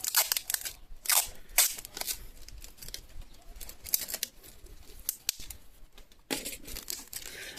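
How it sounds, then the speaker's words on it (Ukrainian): Adhesive tape pulled off a roll and cut while wrapping an air-layered grapevine cutting, with sharp rips and crinkly crackles in quick uneven bursts, close and fairly loud, no talking. "Дальше берем скотч."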